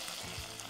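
Onion sautéing in a hot pan with mustard seeds, cumin and curry leaves, giving a steady close sizzle and crackle with no talk.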